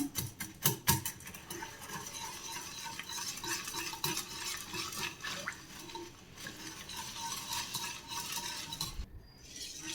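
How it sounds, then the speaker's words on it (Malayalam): A whisk stirs oats, wheat and jaggery cake batter in a bowl, making a steady, close scraping and clinking sound against the bowl's sides that continues throughout with no talking. "ഇതൊരു വിസ്ക് കൊണ്ടൊന്ന് മിക്സ് ചെയ്യണം ശർക്കരയൊക്കെ കഷ്ണമായിട്ട് കിടക്കുന്നുണ്ടെങ്കിൽ ഒന്ന് കുത്തി പൊടിക്കണം"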